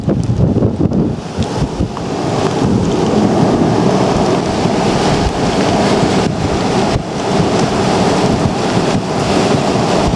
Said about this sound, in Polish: Ale silny wiatr tam jest.